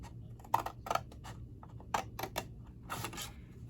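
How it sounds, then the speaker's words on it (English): Scissors snip paper straight up a score line while crafting a wedding gift box, a series of crisp, close, separate cuts with short pauses between them. "We're going to cut straight up the score line."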